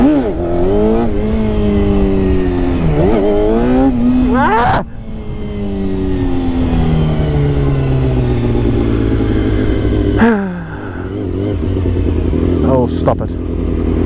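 A classic Honda CBR250RR MC22 four-cylinder 250 motorcycle revs hard and loud for wheelie attempts, its high-pitched engine climbing and dropping in repeated surges, with brief shouted exclamations over it.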